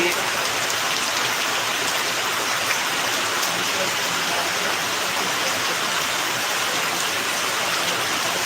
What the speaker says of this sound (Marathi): हो पाऊस चालू आहे दादा हो पाऊस चालू आहे